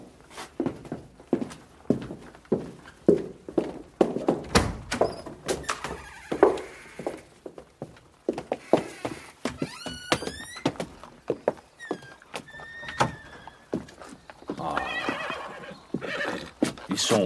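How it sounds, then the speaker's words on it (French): Carriage horses whinny several times among steady hoof clops and footsteps on a hard surface, with a door sliding and bumping nearby; loud, close and irregular, with no talking. "Mes chevaux, Bertuccio. Ils sont à la voiture, Excellence."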